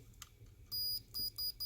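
Several short, shrill electronic beeps in quick succession from an HO scale model steam locomotive, each a steady high tone, over faint clicks and handling noise.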